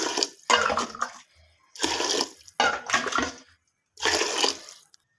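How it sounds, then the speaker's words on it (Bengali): Hot water is poured into a pot of khichuri in several separate bursts, each a close splashing gush with short quiet gaps between them, and no one speaks. "মেপে গরম পানিটা দিয়ে দিব"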